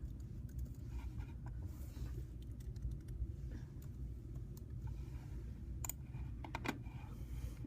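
Keys clack on a computer keyboard in scattered short bursts of typing, close and fairly quiet over a low steady background hum.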